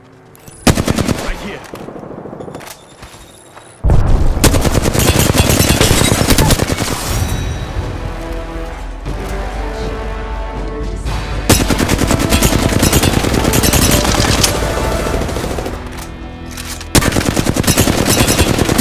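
Loud, sustained automatic gunfire in Apex Legends at King's Canyon, with dense rattling bursts that sometimes break off and resume, and a brief spoken callout under the shooting.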